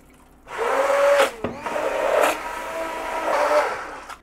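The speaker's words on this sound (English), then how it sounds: "Next we're going to hit it with our immersion blender." An immersion blender purees roasted butternut squash soup in a pot, giving a loud, steady whir with a slight pitch change partway through. It runs in bursts for about four seconds, with no one talking.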